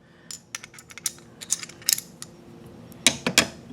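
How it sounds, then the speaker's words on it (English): AK rifle bolt carrier dropped into place during assembly, with a run of sharp metallic clicks and clatters close up, ending in a louder cluster of metal contact. "Drop your bolt carrier in place."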